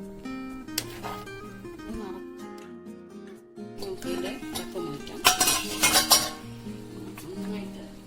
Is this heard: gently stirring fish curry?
yes